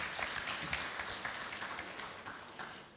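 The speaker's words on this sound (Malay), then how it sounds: "berikan satu tepukan kepada diri anda" An audience at a Malay-language Islamic preaching talk claps together, a steady dense patter of hands that holds fairly evenly for a few seconds before thinning slightly at the end.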